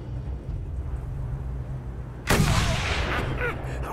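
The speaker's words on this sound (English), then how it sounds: "Oh, the long shot sings!" A single booming shot from the Long Shot rifle in Mad Max, set in a vast desert, cracks out suddenly after a low hum and rolls into a long echoing tail.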